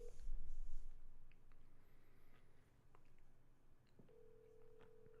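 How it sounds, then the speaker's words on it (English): A touch-tone telephone keypad is pressed to dial a number: a steady tone, then a few faint scattered beeps and taps, and another sustained tone near the end, with no one talking. "Just pick up the phone, start dialing."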